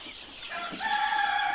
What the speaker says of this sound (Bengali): আমার এখানে আছে সোনালী মুরগি